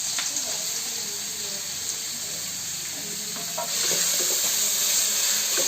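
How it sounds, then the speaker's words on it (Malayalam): Chopped ginger frying in hot oil for a ginger curry in a home kitchen: a steady, close sizzle and crackle that swells louder after a few seconds. "ഇനി എണ്ണയിൽ വറുത്ത് കോരുക."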